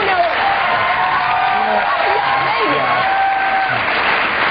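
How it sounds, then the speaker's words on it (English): A studio audience on a political talk show applauds steadily, a sustained wash of clapping and crowd noise with a voice talking over it throughout. "All this applause, I think, is such hypocrisy."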